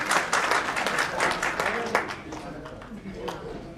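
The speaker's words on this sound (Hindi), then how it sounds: "जोरदार तालियों का स्वागत करें।" Audience applause for a Union minister at a Brahmin community assembly in Sangam Vihar, a dense burst of clapping with crowd noise that tapers slightly over a few seconds.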